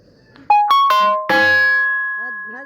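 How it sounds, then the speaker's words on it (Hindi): Phone notification chime, a close, loud sequence of bright rising bell-like tones that ring out and decay slowly, followed by a brief voice at the end. "हर दफ़ा कोई ना कोई नोटिफिकेशन ज़रूर आता है।"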